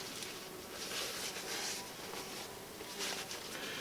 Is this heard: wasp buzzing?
yes